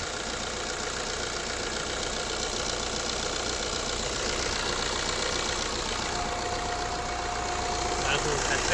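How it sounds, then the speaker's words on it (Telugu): A 2009 Maruti Swift VDI diesel car idling, a steady low rumbling engine with a faint knocking rhythm running throughout at close range, while a person talks over it. "ఇంజన్ అయితే పర్ఫెక్ట్ కండిషన్లో ఉంది"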